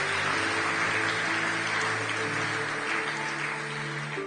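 A church congregation applauds after a pastor's sermon, a broad, sustained roar of clapping that holds steady throughout, with no one speaking over it.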